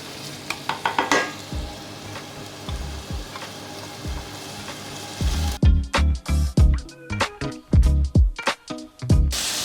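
Shallots and cauliflower florets searing in hot olive oil, a constant close sizzle with stirring. Loud scraping and clattering strokes come in bursts in the second half.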